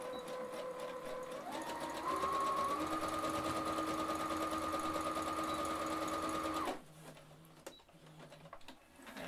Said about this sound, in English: And then you're going to sew along that.